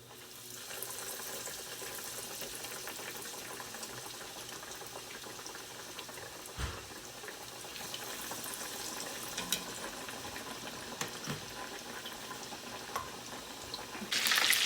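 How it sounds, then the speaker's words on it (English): Breaded chicken katsu fries in oil, a steady crackling bubble that runs on at moderate level, with a few soft knocks and a sharp burst at the end. "Ready? So let's fry."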